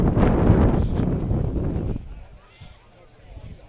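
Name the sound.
wind blowing at an outdoor car show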